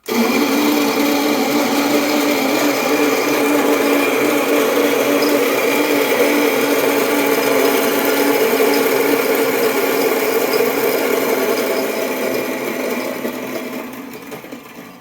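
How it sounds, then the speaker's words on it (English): TITVS coffee grinder grinding coffee beans, a loud continuous whirring grind held steadily for over ten seconds before gradually tapering off near the end. "as you can see, it grinds really fast"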